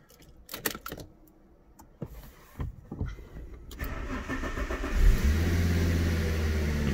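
A Fiat Coupe 20V turbo cranks and fires up after a few clicks and jingles, then settles into a loud, steady idle that fills the rest of the clip with a deep, even rumble.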